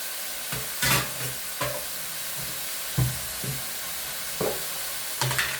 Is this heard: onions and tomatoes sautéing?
yes